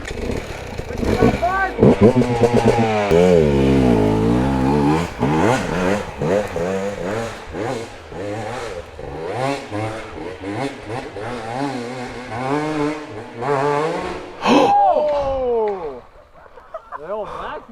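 A 2022 KTM 150 dirt bike engine revs hard and repeatedly, with rising and falling throttle sweeps that are loud and close throughout, easing off near the end.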